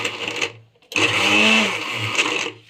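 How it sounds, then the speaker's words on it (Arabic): A kitchen blender grinds onion, garlic and peppers for falafel, a brief whir, a pause, then a loud, sustained motor roar with churning that rises and eases toward the end. "انا ضربت البصل والثوم والفلفل"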